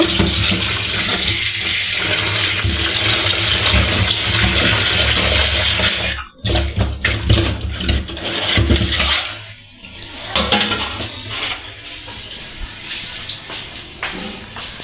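Raw tomatoes being washed under running water, a loud continuous splashing stream that drops off midway, then resumes more unevenly and softer, heard close with no talk.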